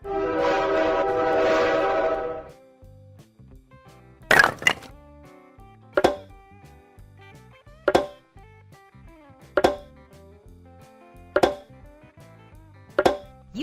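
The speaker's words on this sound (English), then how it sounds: "Train." A train horn blares once for about two seconds, followed by a steady series of loud rhythmic clunks as rail cars roll over track joints, each knock evenly spaced and close by.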